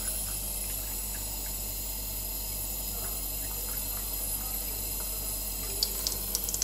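Steady filtered drinking water pours continuously, a soft even stream with a faint brief clatter near the end.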